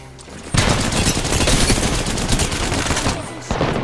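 Rapid automatic gunfire erupts during a squad fight in Apex Legends, a dense, loud burst of shots sustained for a few seconds, then it stops briefly and resumes.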